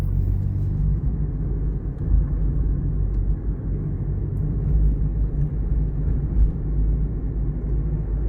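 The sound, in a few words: manual transmission car accelerating and shifting gears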